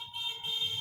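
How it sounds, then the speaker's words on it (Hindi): Clamp meter continuity buzzer sounding while a fuse is checked during split AC wiring: a continuous, moderately quiet electronic tone held throughout over a low background hum. "क्लैम्प मीटर को बजर पर लगाएंगे"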